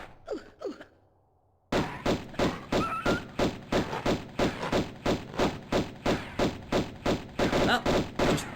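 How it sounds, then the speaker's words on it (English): Gunfire in the Tomb Raider 1 video game: a long, loud, evenly spaced run of about twenty shots, coming after a brief vocal sound and a moment of quiet. "just fucking shooting a corpse"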